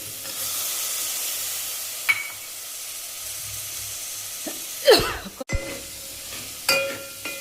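Cluster beans (gavar) frying in a hot pan, a steady sizzle and hiss with occasional stirring scrapes and clatters of a utensil.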